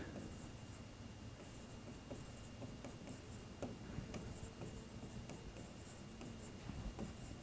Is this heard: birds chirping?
no